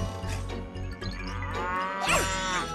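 A farm cow lets out a close, full-throated moo that rises in pitch toward the end, loud and alone without any voices.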